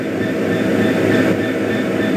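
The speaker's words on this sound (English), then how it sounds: "Bring this train to a complete stop by holding the brake control in the apply state" Diesel train in Train Sim World 6 slowing to a stop, with a steady loud rumble and hiss from the train and a constant high whine running through, while a voice speaks over it.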